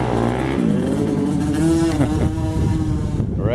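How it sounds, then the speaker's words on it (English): Neighbors' motocross motorcycles rev and rise in pitch over a continuous engine drone, the throttle climbing and falling in a couple of bursts at moderate distance around an Arizona homestead. "neighbors, obviously they're out here doing motocross again, so there's gonna be that"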